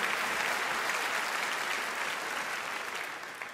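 An audience at a comedy festival opening night applauds a volunteer called onto the stage, steady dense clapping throughout that gradually fades slightly toward the end.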